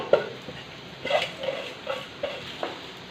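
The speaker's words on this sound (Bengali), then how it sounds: "এখানে চাল দিয়ে দিলেন চালগুলো একটু ভেজে নেবেন" Rice frying in a pan for vegetarian pulao, with a faint sizzle and a few soft stirring scrapes against the pan spaced roughly every half second.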